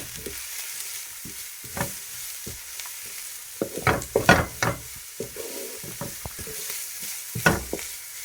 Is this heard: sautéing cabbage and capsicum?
yes